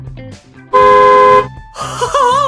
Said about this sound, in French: c'est le klaxon du bus.